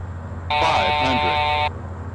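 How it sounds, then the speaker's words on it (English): A steady electronic warning buzzer sounds in the cockpit of a Pilatus PC-12 in Microsoft Flight Simulator X, holding one continuous tone for about a second over engine hum while a voice talks underneath. "Scared the crap out of me when you said that right with that buzzer."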